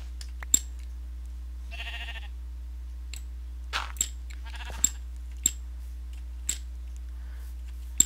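Sheep bleating in the video game Feed the Beast, two short bleats standing out among sparse clicks and ticks against a quiet, steady hum.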